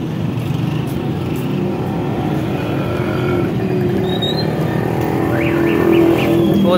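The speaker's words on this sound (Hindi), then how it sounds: "वो देखें ट्रैफिक उस साइड में बिल्कुल ब्लॉक है" Dense road traffic rumbles steadily in a busy market street, with continuous engine drone, passing vehicles and a few short horn toots near the end.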